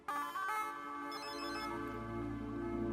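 A phone ringtone plays as a melodic electronic tune in a Hindi movie scene, loud and continuous across the clip with no talk over it.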